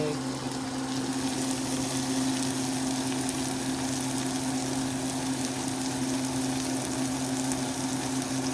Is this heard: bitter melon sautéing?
yes